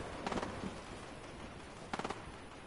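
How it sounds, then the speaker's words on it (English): Two short bursts of distant automatic gunfire in the video game Fortnite, each a quick rattle of four or five shots, separated by a pause over a faint background hiss. "I hear gunshots"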